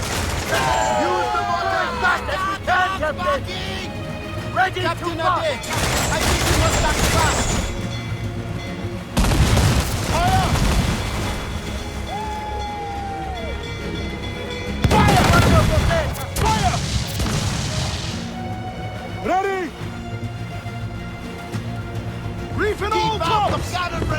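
Repeated booming cannon blasts with crashing bursts in the video game Assassin's Creed Freedom Cry, mixed with shouting voices and game sound effects, loud and busy throughout.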